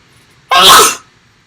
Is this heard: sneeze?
yes